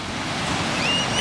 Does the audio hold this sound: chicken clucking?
no